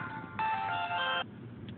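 An incoming phone call rings once, a short bright electronic melody of under a second that sits over faint room noise and then stops.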